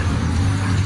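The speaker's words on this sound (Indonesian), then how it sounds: "ada mobil lewat" A car rolls past in a narrow residential lane in Manado, heard as a steady low engine rumble close by for under a second with no talking.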